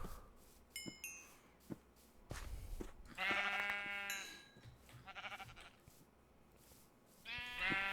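Sheep in the Minecraft modpack FTB Continuum bleat several times, harmonic baas overlapping amid clinks and game clatter, fairly close with quiet gaps between calls.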